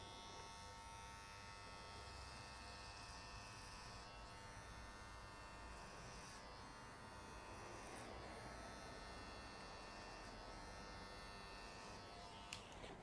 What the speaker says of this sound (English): I'm not rushing with the clipper, firing the clipper through the hair.